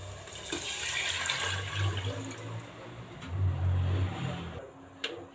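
Water pours steadily into a pot of rice from close range, in two gushing stretches with a short pause between them, ending in a small clink.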